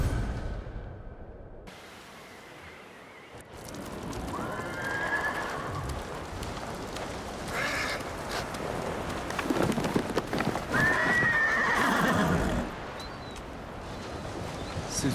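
A horse whinnies twice amid the clatter of hooves and rustling movement in the video game Ghost of Tsushima, fairly close and clear.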